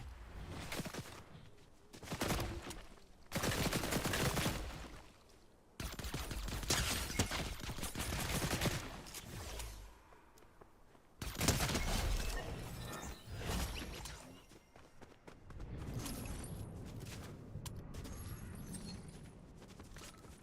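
Pistol fire in a video game, loud bursts of shots in several separate volleys with quieter gaps and game effects between them, no talking.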